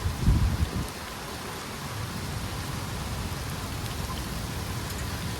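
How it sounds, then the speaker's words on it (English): Rain shower with a little hail blowing in at an outdoor deck-building site, a steady dense patter throughout with a few heavier, closer thumps near the start. "Little hail blowing in here right now."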